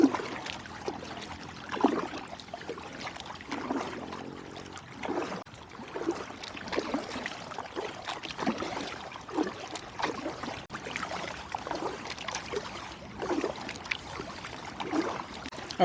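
Kayak paddling on water near Staten Island, New York, with repeated soft splashes and trickles from the paddle strokes. The strokes come in an uneven rhythm, close by and fairly quiet, with no voices.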